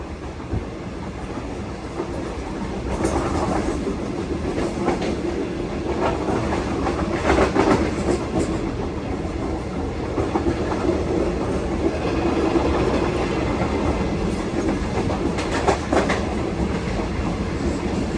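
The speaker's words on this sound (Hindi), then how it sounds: "अब हमारी ट्रेन फैसलाबाद की तरफ बढ़ रही है तेज़ी से" The Shalimar Express, a Pakistani passenger train hauled by a GU40 locomotive, running fast toward Faisalabad, heard from inside an AC parlour car: a loud, steady rumble with rhythmic clickety-clack of wheels over rail joints, no talk.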